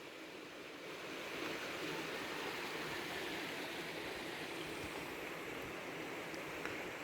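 A river flowing in the valley below a cliffside village in Cyprus's Troodos mountains gives a steady, broad rushing wash in the early morning, constant and even throughout with no voices.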